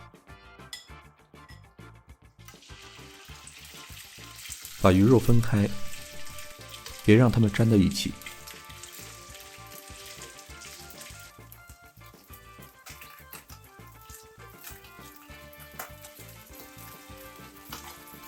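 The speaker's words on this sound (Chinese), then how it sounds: "开中火，先把鱼肉煎一下。" Sea bass pieces fry in hot oil over medium heat with a soft, continuous sizzle and two louder crackling surges, while a voice speaks over the cooking.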